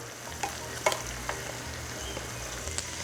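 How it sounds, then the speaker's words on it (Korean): Steady crackling sizzle of braised lotus root in a pan as the liquid boils away, with scattered pops and light stirring scrapes, close and fairly quiet. "뭔가 튀기듯이 비가 오듯한 소리가 나지요"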